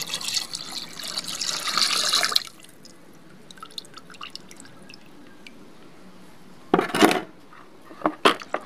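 Broadband rush of perfume mixture poured into water for a couple of seconds, then quiet with faint drips and a few short splashy bursts near the end.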